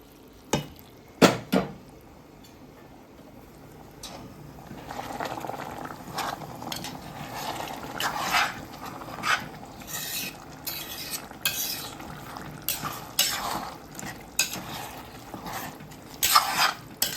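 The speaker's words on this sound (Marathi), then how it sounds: "आता हे पाणी आपण याच्यात ॲड करणार आहोत. गरम पाणी आहे." Hot water goes into a pot of prawn rice, kolambi bhat made with half a kilo of prawns and just under half a kilo of rice, followed by bubbling, stirring and scraping with a utensil at close range.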